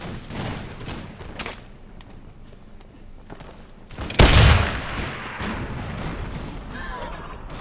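Musket volleys ring out in a video game battle between the British East India Company and Maratha forces, with scattered distant shots, then one loud booming volley near the middle, and crackling fire afterward.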